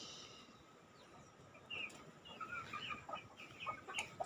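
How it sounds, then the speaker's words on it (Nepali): Hens cluck softly and intermittently near a rooster on a farm in a Sikkim village, growing louder and busier toward the end against a quiet background. "ऊ भाले कति मजाको, हेर्नुहोस् त फेदर भालेको अमै कुखुराहरू।"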